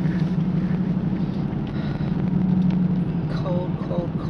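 Car driving on a cold winter road in Pennsylvania at 24 degrees, a steady low engine and road rumble with wind buffeting the microphone, continuous and close, with a voice talking briefly near the end.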